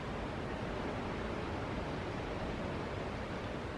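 Steady, even roar of surf from the sea below an old engine house on the coast, a faint, continuous wash of waves with no talking.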